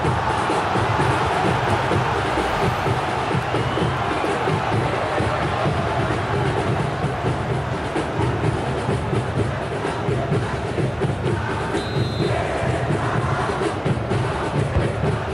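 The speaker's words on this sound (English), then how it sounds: "They know this is a big chance to equalise." Football stadium crowd during a Japan versus Indonesia World Cup qualifier before a corner kick, a dense, loud, continuous roar of massed voices with a steady rumbling drone throughout.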